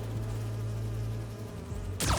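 Bee wolf wasps in Spider-Man 2 give off a steady, close insect buzz with a low droning hum, ending in a sudden bright burst.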